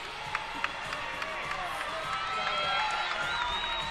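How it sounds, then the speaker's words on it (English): A college gymnastics arena crowd at a Utah State vs BYU meet cheers and whoops steadily as a vault begins, a broad sustained roar with a few sharp claps and whistles, while a commentator talks over it. "And the crowd already into it this early on."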